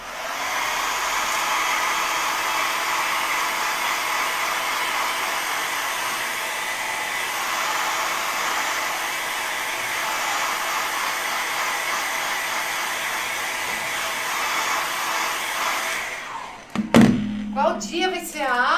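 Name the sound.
hair dryer drying a first coat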